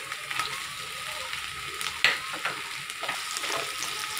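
Chopped tomato hits hot oil over sautéed ginger and onion, a close frying hiss that flares into a sharp sizzle with a clatter of the pan and stirring scrapes.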